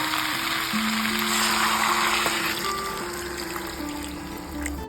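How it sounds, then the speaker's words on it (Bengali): Water is poured into a simmering pumpkin and prawn curry, making a continuous hissing, splashing rush that stays loud and close for the whole stretch under a faint steady hum. "এবার আমি জল দিয়ে দিচ্ছি"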